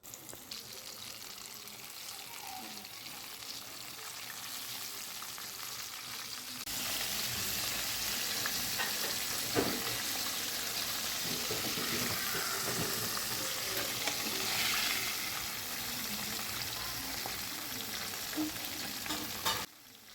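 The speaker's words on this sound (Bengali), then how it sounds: "ডুবো তেলে গোল্ডেন ব্রাউন হওয়া পর্যন্ত চিকেন ফ্রাইগুলোকে আমি ভেজে নিয়েছি" Chicken pieces coated in flour, cornflour and chicken stock deep-fry in oil, a steady close sizzle that grows louder and busier partway through, lasting throughout without talk.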